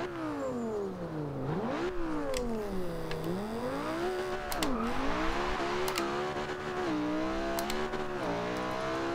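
A 2011 Lamborghini Gallardo LP570-4 Superleggera in the video game Forza Horizon 2 accelerates hard, its engine note climbing steeply, dropping at each gear shift, then climbing again in a loud, continuous run.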